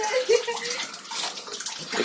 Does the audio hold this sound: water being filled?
yes